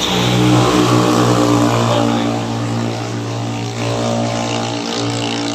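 Engines drone and rev nearby, a steady motor hum that swells and dips, like motorbikes idling and revving at night.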